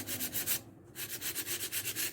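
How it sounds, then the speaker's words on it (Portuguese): Fine 180 to 220 grit sandpaper rubs back and forth over a wooden MDF box, making a rapid, even rhythm of soft scratchy strokes, close and fairly quiet, with one brief pause, and no voices. "Pega a lixa mais fina que você tiver. 180 ou 200, 220. E vai lixando"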